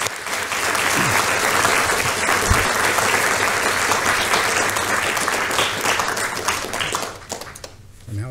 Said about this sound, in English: So just a round of applause for Chris.